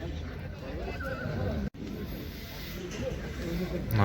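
A horse neighs and whinnies amid the hubbub of a livestock market, with someone talking over the crowd babble and a brief dropout midway.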